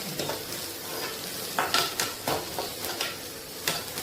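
Poppadom pieces sautéing in a pan with turmeric powder, a soft steady sizzle under repeated close scrapes and clinks of a spoon against the pan.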